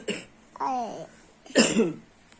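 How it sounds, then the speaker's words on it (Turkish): A couple of short coughs, close and fairly quiet, with a brief vocal sound between them. "Ben öksürüyorum hala"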